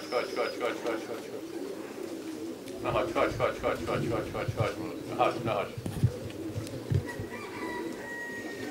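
Pigeons coo in soft, repeated pulsing bursts at a racing-pigeon loft, close by, with a person talking intermittently over them.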